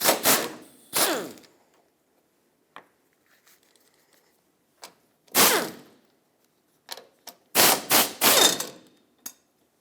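Tools work on the 12mm mounting nuts of a 2008-2012 Honda Accord strut brace, giving sharp bursts of impact ratcheting and metallic clunks separated by short silences, close and loud.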